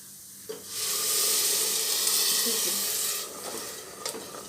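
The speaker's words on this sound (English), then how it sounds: "Now the tomato puree is ready. Now we are going to add it inside the pan." Tomato puree hits a hot pan and sets off a loud, steady sizzle that swells after the first half second and keeps frying hard. The sizzle eases slightly near the end, where a few stirring scrapes come through.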